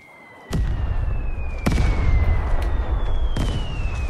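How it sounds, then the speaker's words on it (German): Grenade blasts in the PS5 multiplayer shooter Vigor: three sharp bursts, each with a brief rumbling tail, spaced over a few seconds above steady in-game background noise and a faint sustained tone, with no talking. "Oh, der hat eine Granate geschmissen."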